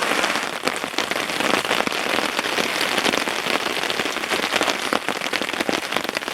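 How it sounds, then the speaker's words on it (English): Heavy rain pours down steadily on surfaces nearby, a loud dense patter of drops that fills the whole clip without letting up. "So just whilst it's chucking down with rain"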